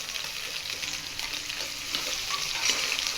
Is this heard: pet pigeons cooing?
no